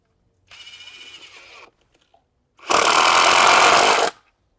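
A Profitec impact wrench running in two bursts, first a lighter rattling hammering for about a second, then a louder, denser buzzing hammer for about a second and a half, close up with no talking.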